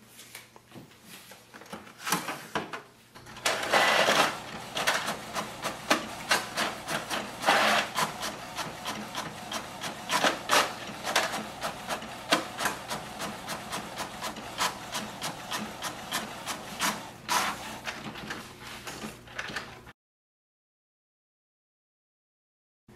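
A Canon MAXIFY GX6021 inkjet printer runs a print job nearby, giving a steady rasping, rubbing mechanical whir with rapid clicks and paper-feed pulses for about seventeen seconds before stopping, with no talking.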